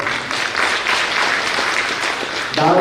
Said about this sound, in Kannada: ಅವ್ರಿಗೆ ನೀವು ಜೋರಾಗಿ ಚಪ್ಪಾಳೆ.